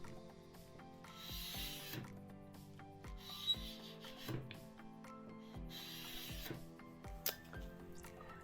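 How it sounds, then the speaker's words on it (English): A carbide scraper scrapes old finish off an antique solid wood fold table in a series of rasping pulls, several strong strokes standing out, while faint tonal background hum runs underneath and no one speaks. "I decided not to use stripper, and I got out the Carbide scraper."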